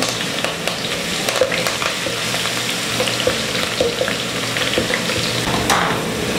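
Chopped ginger and garlic fry in a pan with a loud, continuous sizzle and occasional sharper pops and stirring scrapes, close and unbroken by speech.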